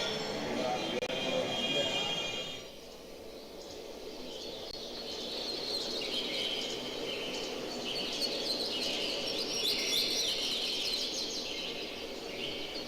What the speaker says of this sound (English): forests with the birds and the crickets in the background